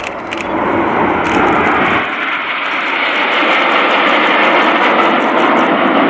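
Red Arrows jets roaring past in Spitfire formation at an air display, a loud, steady broadband jet rumble filling the clip, with no other sound breaking through.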